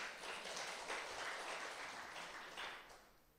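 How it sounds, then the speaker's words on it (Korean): Congregation applause at a Sabbath worship service, a broad wash of clapping that swells and gradually fades out over a few seconds, with no voices over it. "박수 한번 보내주시죠"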